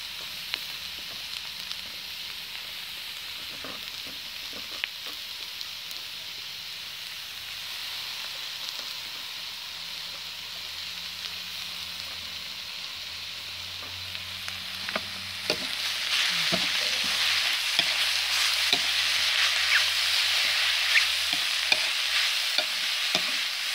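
Mushrooms stir-fried in a pan for a Lao dish, a steady hiss and sizzle with scattered clinks of stirring, growing louder and denser partway through, with no talking.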